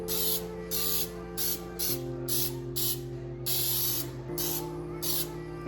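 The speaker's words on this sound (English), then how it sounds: "the flour helps you see where it is you're spraying" Baking spray with flour hisses from an aerosol can into a cake pan in several short bursts, close and fairly loud, over a steady mechanical hum in a kitchen.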